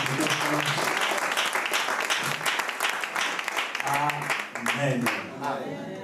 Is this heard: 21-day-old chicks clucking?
no